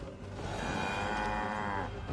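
A cow moos in Assassin's Creed Valhalla, one sustained, fairly loud bovine call lasting about two seconds over steady in-game ambience, with no talking.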